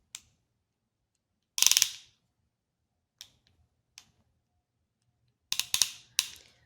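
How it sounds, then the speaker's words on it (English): The ratchet release on an iCrimp PEX clamping tool: sharp metallic clicks and snaps in short bursts separated by silence, close and clear with no talking. "if you push that to the left, the handle gonna get released."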